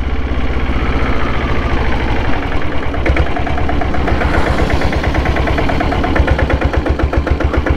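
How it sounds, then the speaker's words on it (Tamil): A Royal Enfield diesel Bullet motorcycle engine runs steadily and loud up close, its low, even thumping beat continuing throughout with no talk. "வண்டி வந்துட்டு நல்லா இருக்கு, ஓட்டுறதுக்கு ஓவர் வைப்ரேஷன் கிடையாது."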